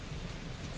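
Steady rain pours down in Mysore, a dense, even hiss of falling drops with no pauses and no voices.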